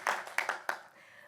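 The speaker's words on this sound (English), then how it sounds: "so round of applause for everyone who's participating" Brief scattered applause from a town hall audience, a few separate claps in the first second then fading, fairly faint and distant.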